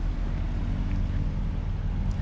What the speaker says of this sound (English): Listen to that beautiful 700, less than 700cc engine.